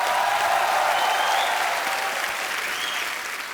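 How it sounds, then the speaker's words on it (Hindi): Loud, dense studio audience applause on a comedy talk show, a continuous roar of clapping that holds steady and then eases slightly toward the end. "जोरदार तालियां हो जाए एक बार।"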